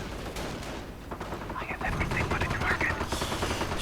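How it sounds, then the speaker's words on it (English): Artillery fire in a real-time strategy war game, rapid overlapping gunfire and booming blasts in a dense battle mix, with a commentator talking over it. "Artillery going in, right around the victory point"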